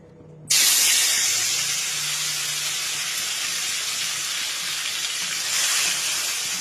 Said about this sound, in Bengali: ম্যারিনেট করা চিকেনগুলো হালকা করে একটু ভেজে নেব